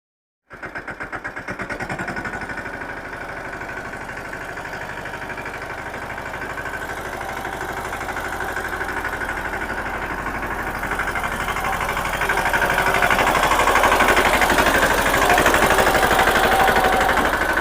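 A tractor engine runs continuously nearby, a steady mechanical drone and rattle that starts abruptly and grows gradually louder throughout, with no talking.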